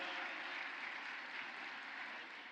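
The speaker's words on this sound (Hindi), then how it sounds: "जोरदार तालियों से स्वागत और अभिनंदन" A crowd at a temple inauguration in Navi Mumbai applauds in a steady, distant wash of clapping that holds evenly throughout and fades slightly at the end.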